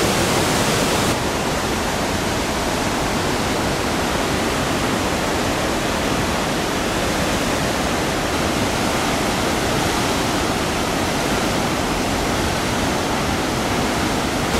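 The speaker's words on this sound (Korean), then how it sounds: "이게 하나 폭포가 아니라 여러 개가 이렇게 같이 떨어지니까 소리도 좋고" Roaring waterfall at Si Phan Don in southern Laos, where several falls drop together; a dense, steady broadband rush of water, loud and continuous throughout with no voices.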